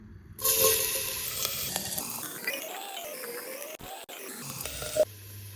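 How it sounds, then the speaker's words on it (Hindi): Loud sizzling bursts up as garlic hits hot oil, then settles into a steady frying hiss with occasional stirring scrapes. "अब इसमें जो है मैं लहसुन डाल के ब्राउन करूँगी उसको"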